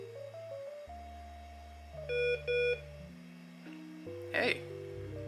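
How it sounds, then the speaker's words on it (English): An electronic Smart Alex smart toy from 2000 plays a sequence of short synthesized tones and beeps in quick steps, with a brief burst of louder bleeps, fairly quiet and close, and no talking. "Hey, did your toy beep?"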